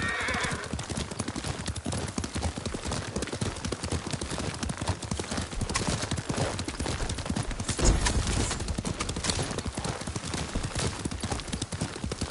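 Steady clip-clop of horse hooves at a brisk gait throughout, with a sharp louder hit partway through and a neigh mixed into the galloping, from the video game Ghost of Tsushima.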